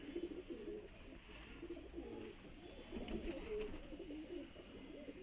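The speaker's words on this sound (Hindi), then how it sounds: "चिट्टी चोंच का कबूतर देखिए" Soft, repeated pigeon coos ripple over a low background murmur, faint and fairly close.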